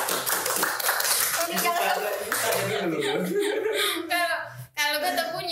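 An audience at a Peace Maker learning circle on tolerance in NTT breaks into dense clapping mixed with chuckles and laughter, which fades after a few seconds into murmuring voices.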